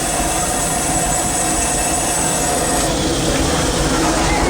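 Riding aboard the C.K. Holliday steam locomotive on the Disneyland Railroad, a loud continuous rumble of wheels on track fills the cab, with a steady hiss and faint metallic squeal throughout.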